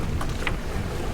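A sailboat under sail with no engine rolls at sea in high wind and waves, a steady broad rush of wind buffeting and water noise filling the air, loud and continuous with no voices.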